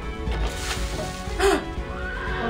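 Horse neighing in the video game Unravel Two, a whinny rising over a soft game soundscape with a few earlier muffled thumps and a bright call near the middle.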